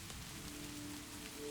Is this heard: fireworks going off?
no